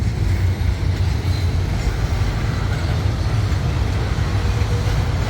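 A heavy freight train with container wagons and cement tank cars rumbles past close by, a loud continuous low roar with rattling wagons and faint rhythmic clatter throughout.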